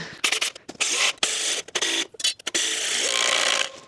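An impact driver struggles to countersink a screw into hard hickory, firing in choppy bursts of rapid hammering rattle with short pauses between, then one longer sustained run near the end.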